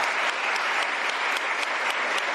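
Steady, dense applause from an audience at a governor's bill signing, filling the room evenly throughout with no voices standing out.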